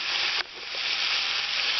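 Pork cracklins fry in rendered fat and oil with a loud, close, bright sizzle that dips for a moment and then continues steady, with no voices.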